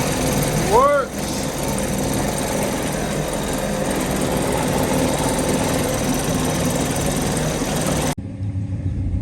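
An outboard motor on a restored jon boat starts up and runs with a loud, steady buzzing drone, with a short rising whine near the start, before cutting out near the end.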